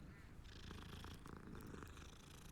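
A cat purrs in Hogwarts Legacy, a close, continuous low rumbling purr that holds steadily for a couple of seconds, fairly quiet under faint game ambience.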